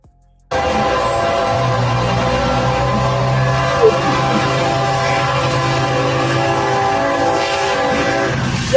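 A train sounds its horn at a railroad crossing in one long, loud, close blast. A low, rumbling rail roar runs beneath the horn and continues steadily after a sudden start.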